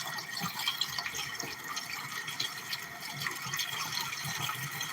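Tap water runs steadily into a sink in a close, continuous splashing stream with no one talking.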